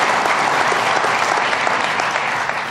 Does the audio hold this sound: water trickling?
no